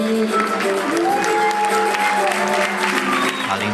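Audience applause after a samba singer's performance accompanied by a cavaquinho, a dense steady wash of clapping lasting throughout, with sustained tonal voices or music running underneath.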